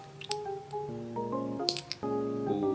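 KAJA lip oil topper drawn out of its container, producing small wet squishing and popping sounds with brief squeaky tones, close and fairly quiet, repeated a few times.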